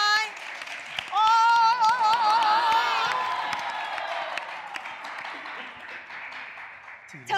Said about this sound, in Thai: ขอเสียงปรบมือหน่อย